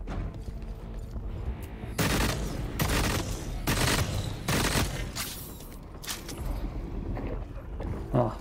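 Sniper gunfire in the game The Cycle: Frontier at Crescent Falls: several loud, broad shots spaced about a second apart in a burst, ringing over a steady background rumble.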